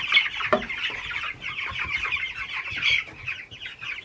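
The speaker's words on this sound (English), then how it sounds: "There are 70 Cornish cross broilers in here. Our first batch of meat birds." A flock of Cornish cross broiler chickens, meat birds kept in a pen on a Maine farm, clucks and chatters continuously and close by with overlapping busy calls.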